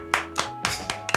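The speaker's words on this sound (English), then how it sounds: "If you can hear me, clap once." Several sharp hand claps ring out one after another at an uneven, quick pace, close and crisp in a quiet room.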